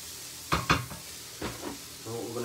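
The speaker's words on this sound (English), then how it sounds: "Just going to continue to stir fry this cauliflower rice just for a couple more minutes." Cauliflower rice is stir-fried in a pan, with a couple of sharp scrapes and clatters of the utensil against the pan over a soft sizzle, then quieter stirring.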